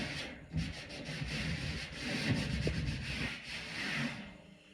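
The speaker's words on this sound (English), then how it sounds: "I don't know if you can hear me when I'm wiping this table off" A damp washcloth wipes a table in a series of close, soft rubbing strokes, a scratchy swishing that rises and falls irregularly at low volume.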